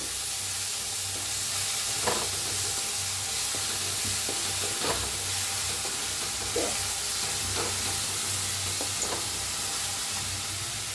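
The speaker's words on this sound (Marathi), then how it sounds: "छान असं भाजून घेऊया." Spiced vada pav masala paste roasts in a hot pan, giving a steady, loud sizzle and hiss with occasional scraping stirs, and no one speaking.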